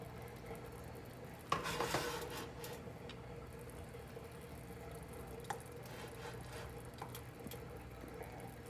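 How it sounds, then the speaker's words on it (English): Hot violet jelly is ladled into jars, with faint scraping and clinking of the ladle against the pot and glass and a brief louder clatter early on, all low in level. "I'm just going to ladle in what it takes to fill each jar"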